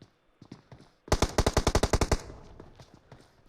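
Rapid automatic gunfire in PUBG Mobile during a custom-room squad match, a tight burst of about a dozen loud shots after a few faint footstep-like taps, fading into softer clatter.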